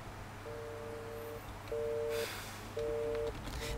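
Telephone tones from a video game call to a wrong number: a steady beep, then repeated loud busy-signal pulses at a regular rhythm over a low background hum.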